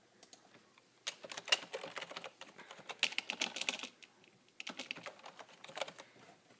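Keys clatter on a computer keyboard as someone types a password for a Windows XP user account, coming in quick bursts with short pauses between, fairly close and moderately quiet with no talk.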